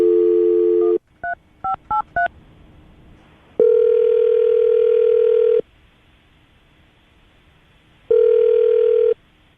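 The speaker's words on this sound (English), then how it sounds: "We're going to call her right now, get her on the phone" Telephone touch-tone dialing beeps in a quick burst, then a steady tone plays twice with silence between, loud and close.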